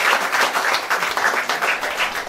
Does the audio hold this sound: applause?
yes